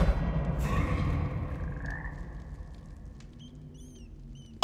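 Frogs in the video game Hogwarts Legacy croak in a dense, chattering chorus that gradually thins and fades, ending with a sharp thump.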